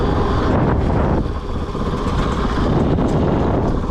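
A KOVE 450 Rally enduro motorcycle being ridden, its engine droning loud and steady close by, with a brief dip in revs partway through and no talking.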